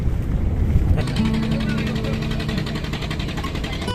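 A tour boat cruises along a river in the Sundarbans in winter, its engine droning steadily under heavy wind buffeting on the microphone, loud and close for the whole span.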